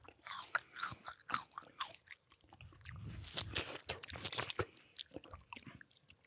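Close, crisp biting and chewing of food in an ASMR-style moment, with crunchy bites and wet mastication repeating over several seconds and only faint voice traces.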